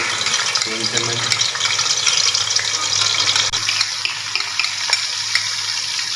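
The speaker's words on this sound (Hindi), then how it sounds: "अदरक लहसुन के पेस्ट को अच्छी तरह से फ्राई करेंगे" Ginger garlic paste fries in hot oil in a pan for a mutton karahi, a loud continuous sizzle and crackle with occasional stirring scrapes throughout.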